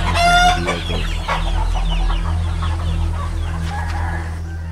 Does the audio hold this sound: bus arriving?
no